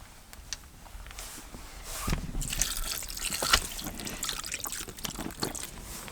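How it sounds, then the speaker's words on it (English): Chicken broth poured into a pot over food to cover it, a soft, steady trickling and splashing of liquid that builds slightly louder midway and carries on close by, with no talking. "And then you're going to take chicken broth and pour enough on there to cover it."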